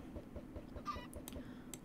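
Chickens clucking in the video game Minecraft, soft repeated clucks in a steady rhythm with a few brighter chirps, faint and alone.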